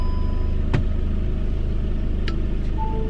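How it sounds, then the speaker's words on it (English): A Volkswagen Golf's engine catches and settles into a steady low idle rumble, with a brief starter burst near the start and a faint electronic chime later. "if I started the car to get the power going, there it goes"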